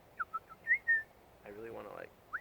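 A person whistles a short run of clear, high warbling notes up close, broken by a brief burst of hissy, throaty sound before a final rising whistle.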